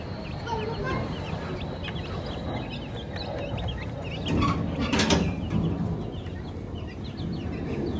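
Desi and Aseel chickens clucking and peeping nearby in an uneven chorus, with soft background rustling and a brief louder stretch of activity.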